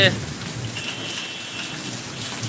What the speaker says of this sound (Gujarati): વરસાદ ઝાકા ઝીકી બોલે હવે